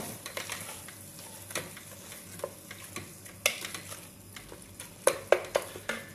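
Chicken stirred around a sizzling frying pan for butter chicken, with continuous frying hiss and a run of utensil scrapes and sharp clinks on the pan, louder toward the end.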